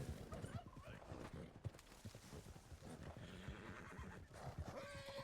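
A horse in Red Dead Redemption 2 whinnies while hooves clip-clop along in a game scene, the animal sounds mixed with other game effects and a voice talking over them.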